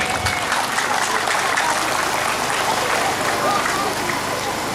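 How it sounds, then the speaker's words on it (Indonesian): An audience of schoolchildren and adults at a trauma-healing session in Tanah Karo breaks into sustained, even applause, a dense wash of clapping lasting the whole stretch. "Tepuk tangan dulu"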